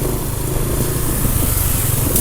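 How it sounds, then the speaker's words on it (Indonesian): A scooter engine running on worn 10W40 oil after about 900 km idles loud and close with a rough, uneven, rattling drone. "Ini suara mesin udah mulai kasar ya."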